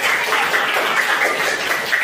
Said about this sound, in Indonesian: Beri tepuk tangan untuk kelompok visual.